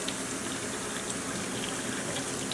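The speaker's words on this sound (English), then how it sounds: "Take a strainer, pour the couscous right over it." Water and cooked Israeli couscous pour into a strainer in a kitchen, a steady, dense rush of splashing liquid lasting a couple of seconds without pause.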